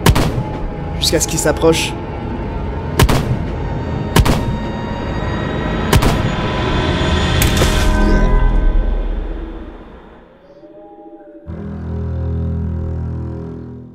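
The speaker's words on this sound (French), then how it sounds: "Et elle tire toutes les balles qu'elle a" Gunfire effect in a French horror audio drama: a rapid series of loud, sharp shots with echoing tails over tense music, as a woman empties her weapon, followed by a quieter stretch and a brief spoken line.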